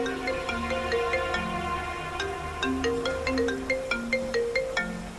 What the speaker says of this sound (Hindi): पिया का फोन।